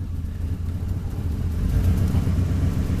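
A car engine idles a little low, giving a steady, close low rumble with a faint uneven sputter that builds slightly in loudness toward the end, with no talking.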